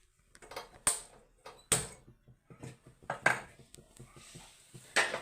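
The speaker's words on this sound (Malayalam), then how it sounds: "ഗ്യാസ് കത്തിച്ചു, പാത്രം വെച്ചു." A cooking pot set down on a lit gas stove to make payar thoran, heard as several sharp metallic clanks and knocks with quiet gaps between them.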